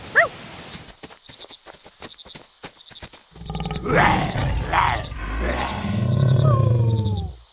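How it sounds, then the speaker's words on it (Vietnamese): A tiger roars from far off in a 3D animated folk tale, a few low rumbling calls rising after a quieter opening of soft clicks and a brief high squeal, carried over a steady high tone. "tiếng hổ gầm ở xa lắm"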